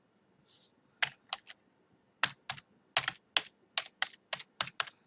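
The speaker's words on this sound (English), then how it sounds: "Let me type it out here for you." Bursts of computer keyboard typing, sharp clustered key clicks in quick irregular runs with short pauses, close and fairly quiet with no talking.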